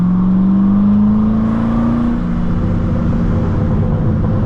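A 2006 Chevrolet Corvette convertible with a six-speed manual revs hard as the throttle is pressed, a loud rising engine drone that climbs in pitch over a couple of seconds, then settles into a rough, steady rumble heard from inside the car.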